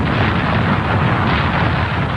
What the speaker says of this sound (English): A tremendous explosion.